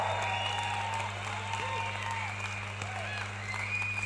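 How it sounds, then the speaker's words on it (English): Crowd at a preaching event applauding, a diffuse layer of clapping and murmuring voices over a steady electrical hum, moderately loud and continuous. "I think that we should clap for him"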